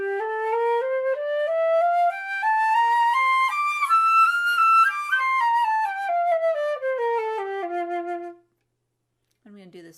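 A flute plays a standard two-octave scale, with clear tones stepping steadily up and then back down, loud and close, and no other sound until it ends.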